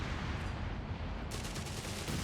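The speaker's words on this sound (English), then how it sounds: "Panzer 3 opening fire on the Royal Engineers." Gunfire from a Panzer III tank in the Company of Heroes 3 video game, a quiet, dense crackle of rapid shots that continues throughout the short stretch, faint and distant, with no voices.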